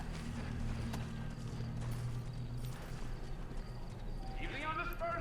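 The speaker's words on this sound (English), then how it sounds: "that horse is going nuts." A horse in the Red Dead Redemption video game, with steady galloping hoofbeats throughout and a loud neigh near the end, mixed with other game sounds.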